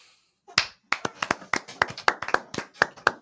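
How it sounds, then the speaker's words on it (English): Sparse, uneven clapping from a small group marking a standing ovation, with sharp separate hand claps in a loose rhythm that never swells into a full roar of applause. "Wow. Another standing O."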